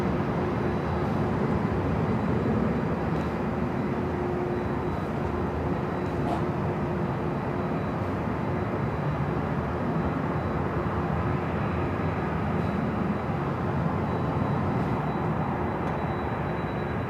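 A Boeing 767-400ER jet at Los Angeles International Airport makes a steady, broad roar. It holds a constant distant rumble with no breaks for the whole stretch.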